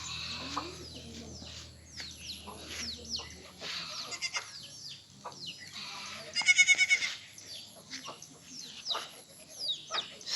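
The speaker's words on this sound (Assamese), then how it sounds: "ছাগলীবিলাক আহি আছে" Goats bleat in short calls on a farm field, fairly faint and spread through the scene, with birds chirping around them and a person calling to the animals now and then.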